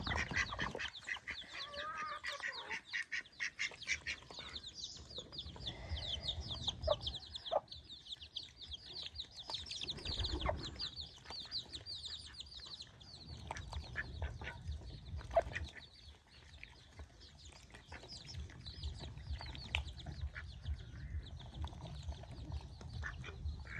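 Village ducks and chickens released from their pen in rural Bangladesh, a busy chorus of quacks and clucks running throughout, fairly close, with occasional handling thumps and no talk.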